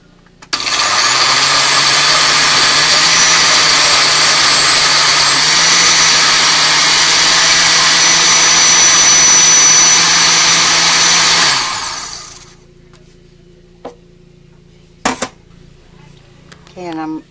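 A blender on its middle setting finely chops apples for muffin batter, a loud, steady whirring roar for about eleven seconds that cuts off sharply, followed by a few light clinks.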